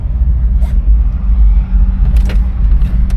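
A 1983 Chevrolet K5 Blazer rolls along at low speed with a loud, close, low rumble, with a couple of brief clicks or rattles on top.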